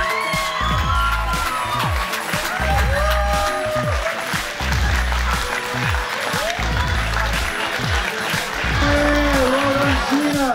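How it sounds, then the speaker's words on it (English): An audience at an outdoor chilli festival applauds the champion of a chilli eating contest, a broad, steady patter of clapping mixed with crowd noise, with loud voices and a booming announcer talking over it throughout. "give her a big round of applause"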